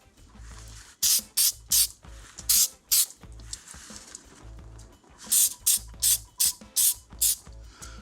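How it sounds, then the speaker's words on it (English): Mold release is sprayed onto a mold for casting in layers: two bursts of several short, loud hissing sprays from an aerosol can, each separated by brief pauses, close to the listener. "So you'll just spray your mold."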